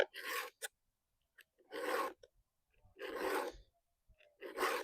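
Four slow, rasping strokes of a round chainsaw file on a mangled metal tooth, each about half a second, with quiet pauses between, close up.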